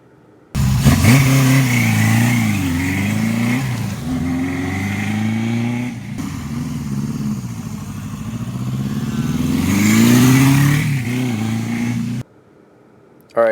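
A 1977 Honda CB750 motorcycle engine running on a test run, a loud, steady idle with rising revs and a throaty low rumble that swells near the end before cutting off abruptly.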